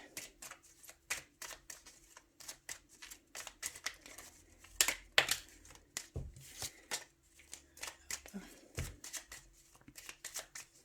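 Tarot cards being shuffled by hand, a brisk run of soft riffling flicks and slaps repeating in quick irregular bursts, close and quiet, with no voice over it.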